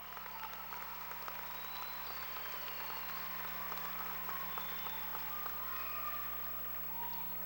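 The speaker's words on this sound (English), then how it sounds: "let's give a round of applause to our band who performed as we entered" Graduation crowd applauding the school band after its entrance performance, a faint, distant, steady patter of many hands with a low constant hum running underneath.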